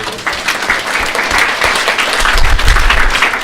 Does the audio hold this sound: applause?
yes